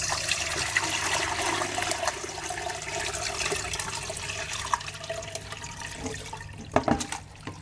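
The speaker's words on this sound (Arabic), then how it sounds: "سأقوم بتصفيتها من الماء المثلج" Blanched spinach is drained from ice water: a steady, loud rush of pouring water runs throughout, ending in a few splashes and clinks.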